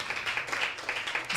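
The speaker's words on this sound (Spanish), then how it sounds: "Denle un aplauso al Señor." A church congregation applauding during a worship service, a short burst of dense, fairly soft clapping from many hands, steady and somewhat distant throughout.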